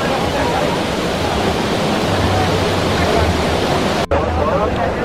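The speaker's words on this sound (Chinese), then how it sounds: "然后可以看到这个瀑布非常非常的壮观，很多人都在这边欣赏这个瀑布的景色" The cascading waterfall below the National Art Museum of Catalonia in Barcelona gives a loud, constant, close-up roar of falling water. It fills the whole stretch with a brief dropout near the end, and voices murmur faintly underneath.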